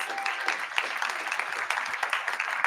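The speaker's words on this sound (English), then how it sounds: "Give this panel another round of applause." An audience applauds a panel at a public forum on environmental racism, giving a sustained, even round of clapping that carries through the whole moment at moderate loudness.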